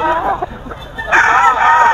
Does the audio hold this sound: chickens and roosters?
yes